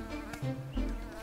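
Mosquitoes and other insects buzz steadily around a wolf outdoors, a continuous close whine with shifting pitch and no talk.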